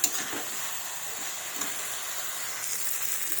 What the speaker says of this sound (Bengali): এবার ভালোভাবে কষিয়ে নেব। এইভাবে ভালোভাবে কষিয়ে নেব।